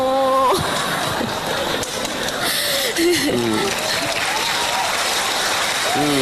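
Applause from a small group, rapid clapping throughout, mixed with speech and chatter over it.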